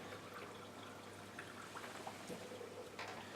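Water from a Kangen water machine runs into a cup in a thin, quiet, continuous trickle, with faint small splashes and a low background hum, no voices.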